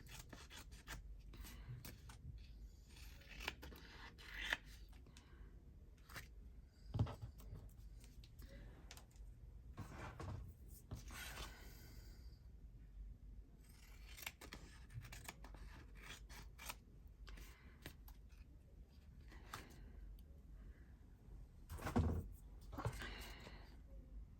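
Scissors trimming the paper border of a glue-damp postcard being covered for a craft project, giving quiet intermittent snips and rubbing scrapes close by, with a louder cut near the middle and another near the end.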